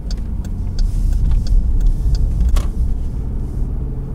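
Cars driving along a residential street in the Queensridge neighborhood of Las Vegas, a steady close road rumble and engine hum that stays even throughout, with light ticks and rattles above it.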